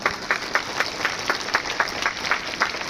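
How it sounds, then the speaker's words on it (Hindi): An audience claps at an outdoor lamp-lighting ceremony opening a National Yoga Day event on a ground in Hazaribagh, giving a fairly even, moderately loud applause with distinct individual claps throughout. "एक बार जोरदार तालियों से अभिनंदन करें हम सभी।"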